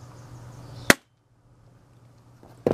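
Airsoft gun firing during a chronograph FPS shooting test, a single sharp close snap followed by a quiet gap and then another crack at the end.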